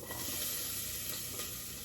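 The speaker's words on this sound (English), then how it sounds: "Once you hear that sizzle, I'm going to back off the heat a little bit" Steady, close sizzling and crackling of onions frying in a hot pan, a continuous hiss with small pops throughout.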